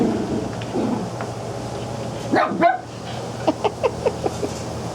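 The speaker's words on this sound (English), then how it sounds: "Joy, what are you barking at?" A dog barks in a quick run of five or six sharp yaps, preceded by a couple of louder, rougher barks, over a steady low background hum.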